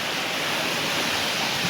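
Heavy monsoon rain pours down as a dense, steady hiss of broadband noise, loud and unbroken throughout, with no voices.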